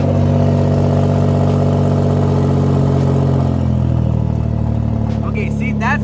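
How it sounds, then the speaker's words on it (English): Engine of an 800-horsepower Nissan GT-R suspected of an exhaust leak, running loud and steady close by with a deep droning rumble and a rattly edge, while voices talk over it. "it has to be an exhaust leak"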